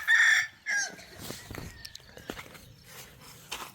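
On a morning watermelon farm, a chicken crows and clucks in two short, loud bursts near the start, followed by quieter rustling and footsteps.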